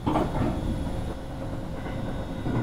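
A limited express train runs on the tracks near Shin-Osaka, giving a steady, loud rolling rumble with faint rhythmic rail clatter throughout.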